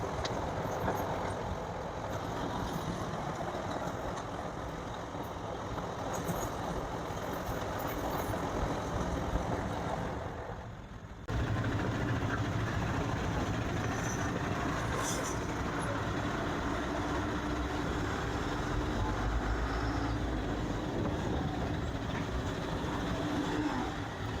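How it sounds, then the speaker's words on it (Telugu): A coal transport train rumbles past steadily and close by, a continuous heavy rolling roar with a brief dip midway before the noise resumes at full strength. "కోల్కి సంబంధించిన ట్రైన్ ఇది. కోల్ ట్రాన్స్పోర్టేషన్ చేస్తుంది."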